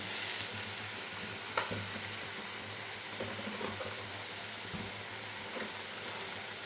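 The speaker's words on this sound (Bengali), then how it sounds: "এবার মশলাটা কষানো পর্যন্ত অপেক্ষা করব" Spices with salt and chili powder fry in oil, a soft steady sizzle heard up close with a few faint stirring taps, fairly quiet overall.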